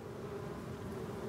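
Bees hum at urban beehives in Paris, a steady, even, low buzz that holds close and continuous through the moment with no voices.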